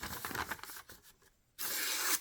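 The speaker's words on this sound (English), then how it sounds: "Let's try to cut through some paper." A CRKT Provoke folding knife slicing through paper, with a short scratchy rasping pass, a near-silent pause, then a louder sustained hissing cut at close range.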